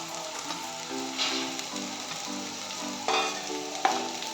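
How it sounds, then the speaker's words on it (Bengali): Soft sizzling from a pan as cashews and raisins fry with fried onions, with a few scraping stirs and light clinks of a utensil. "পেঁয়াজটা ভাজা হয়ে গেছে, আমি এখন দিয়ে দিচ্ছি কাজু আর কিশমিশ।"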